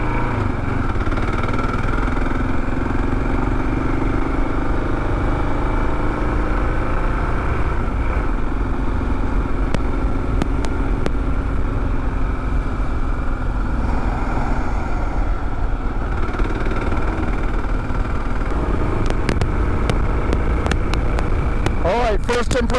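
A Kawasaki KLR 650 adventure motorcycle being ridden over a winding mountain road, its engine droning steadily and loudly with a continuous hum and wind rush, shifting pitch slightly as it rolls on and off the throttle.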